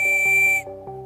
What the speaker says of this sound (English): Tin we have this, which is a survival whistle.